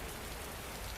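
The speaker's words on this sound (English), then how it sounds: "the sound of the rain growing heavier" Rain falls heavily, a dense, steady hiss of drops on surfaces, quiet and unbroken for a moment.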